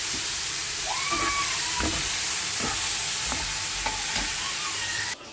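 Mango pieces frying with turmeric and jaggery in a pan, a steady close sizzle with spoon stirring strokes scraping through it, ending in a brief drop as water goes in.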